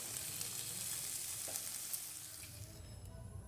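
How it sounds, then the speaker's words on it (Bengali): Chicken tikki shallow-frying in a lightly oiled kadai gives a steady, soft sizzle throughout, with faint scraping touches and no talking. "তুলে ভালো করে তেল দিয়ে ভেজে নেব।"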